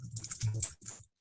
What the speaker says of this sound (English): God damn, you typing fast as fuck.